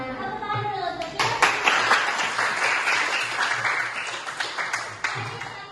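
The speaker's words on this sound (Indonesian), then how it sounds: "Tepuk tangan dulu untuk kita." Classroom of students clapping together after a lesson, a dense burst of many small hands that starts after a brief moment of talk and continues with uneven rhythm, with a voice faintly mixed in.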